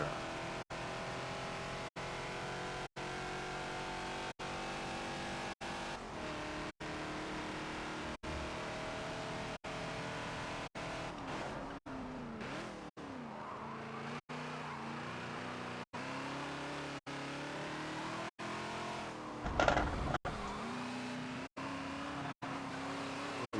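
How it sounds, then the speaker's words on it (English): A supercharged Ford Falcon XB races around the Indy GP circuit in Forza, its engine droning continuously with shifting pitch through gear changes and a brief louder burst, heard alone at moderate level. "Listen to that supercharger."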